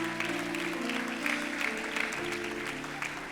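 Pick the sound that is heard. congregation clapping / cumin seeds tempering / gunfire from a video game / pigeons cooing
congregation clapping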